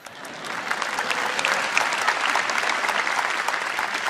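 Sustained applause from a large audience at a Samsung Galaxy Note 9 launch event in the Philippines, dense steady clapping that fills the whole stretch without letting up.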